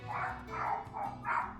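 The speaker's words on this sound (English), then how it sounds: "Sorry for the dogs." Dogs bark nearby in a burst of four loud, evenly spaced woofs, filling the short stretch with no talking.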